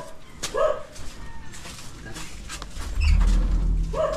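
A dog gives a few short barks and yips, spaced apart, over a low rumbling background, fairly close.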